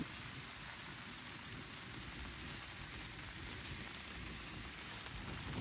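Steady rain falls over a lotus garden of flooded paddies at the Oga lotus park in Hashima, Gifu, a dense even hiss of drops on water and leaves throughout.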